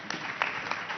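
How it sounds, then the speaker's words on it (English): A conference audience applauds to welcome a seven-person panel onto the stage, a steady wash of clapping with a few louder bursts through the whole second and no one speaking. "Round of applause,"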